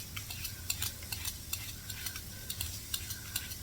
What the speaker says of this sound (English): That meat's back there, getting cooked, getting seared.